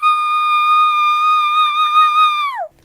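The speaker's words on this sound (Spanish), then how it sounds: "Y voz de silbido o el whistle voice." A singer sustains a high, pure whistle-register note for about two and a half seconds, loud and steady with slight wavering, then lets it glide downward and stop.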